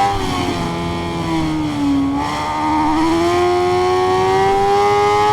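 A BMW S1000RR motorcycle with an Akrapovic exhaust in the Ride 5 racing game, its engine loud and close, holding a high whine that dips briefly as it shifts, then climbs steadily again with no talk.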